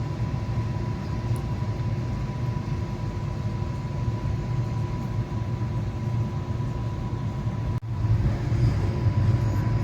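Inside a coach of the 13189 Sealdah–Balurghat Express as it pulls out of Bandel station, a steady low rumble and hum fills the carriage, with a sharp click partway through before the noise grows slightly louder.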